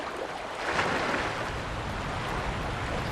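Steady, full-band rushing roar of a waterfall beside a river in the video game Sekiro, constant and fairly close, with no talk.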